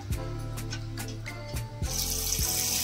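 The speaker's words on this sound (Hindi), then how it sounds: "देखो गाइस कितने अच्छे से पानी आ रहा है गाइस" A homemade water pump built from a 555 DC motor sprays water in a steady rushing splash, with a few sharp knocks and a louder hiss toward the end, with no voices.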